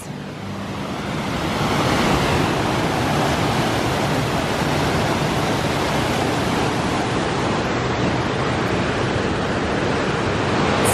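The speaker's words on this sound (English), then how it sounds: "We can hear the waterfall." A steady, dense roar of rushing water from a waterfall near Mammoth Lakes, loud and continuous throughout, with broadband hiss and no voices.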